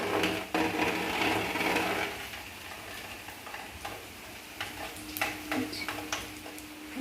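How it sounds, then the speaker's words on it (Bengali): Food fries in hot oil on a rainy day, a soft continuous sizzling hiss close by that is louder at first, then quieter and broken by light scraping clicks. "এবারে সুন্দর করে ভেজে নিই"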